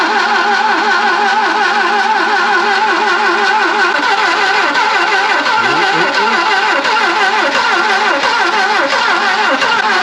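A barn-find SAAB 99 engine firing and catching while being coaxed to start, a loud, continuous, rough mechanical drone with uneven pulsing throughout, close to the car.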